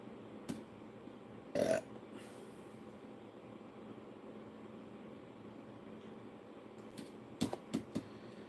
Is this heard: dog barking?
no